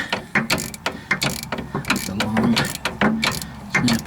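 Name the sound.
Snap-On ratchet turning on a car wheel bearing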